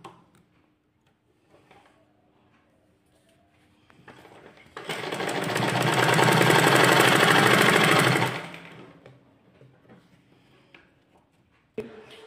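A sewing machine stitches a sleeve hem in one loud, continuous run of rapid mechanical ticking that lasts about four seconds and then winds down, with quiet handling noises before and after.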